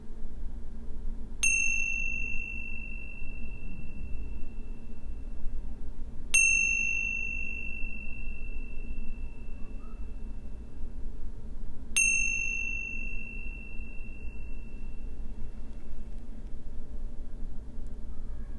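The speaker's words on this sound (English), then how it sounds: "listen to the sound of chimes and even the space between the sound" Three clear chime strikes spaced evenly about five seconds apart, each ringing out bright and slowly fading over a quiet, soft hiss.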